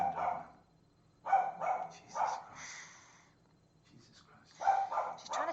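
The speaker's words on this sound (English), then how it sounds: "She's a really noisy dog." Dog barks in short bursts, a few separated yelps and woofs with pauses between, fairly close and moderately loud, with no one talking.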